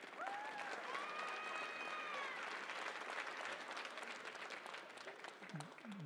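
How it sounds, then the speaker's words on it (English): An audience at a cricket keynote event at KAUST applauds a former fast bowler, a steady wash of clapping with a few whoops and voices rising over it, easing off near the end. "round of applause for him as well"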